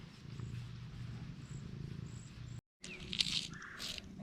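A pet cat purrs softly and steadily while being stroked outdoors on an old farm, a low continuous rumble with a brief gap partway through and faint bird chirps behind it.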